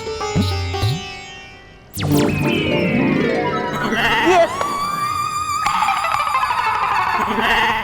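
A goat bleats amid swooping magical sound effects in a children's superhero TV episode, the calls rising and wavering loudly over a busy, shimmering backdrop.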